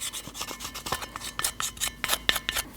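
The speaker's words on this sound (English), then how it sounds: "you want to clean the back side of it with a brush" A stiff brush scrubs rust off the back of a brake rotor from a 2012-2021 Nissan NV2500 van, in quick close rasping strokes of about three per second, loud and alone.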